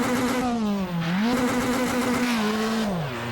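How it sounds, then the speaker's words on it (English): Formula Inter open-wheel race car engine in Automobilista 2, a loud sustained high-pitched whine that rises, dips and climbs again through gear changes, heard from outside the car with no voices. "the sound of the engine on the outside is great"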